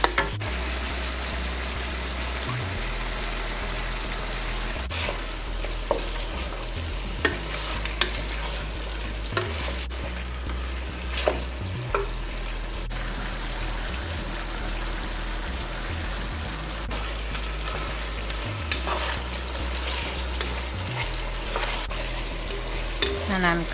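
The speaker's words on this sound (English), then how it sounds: "And we'll cover and continue cooking." Chicken cooks with cassareep in a covered pot, a steady bubbling sizzle with intermittent stirring clatter across the whole stretch, close and constant, without talk.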